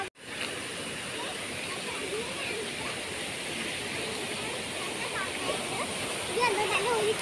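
A hillside stream at Alakode in Kerala rushes downhill with a steady, dense roar of flowing water. It sounds near and unbroken for several seconds, with faint voices mixed in beneath it.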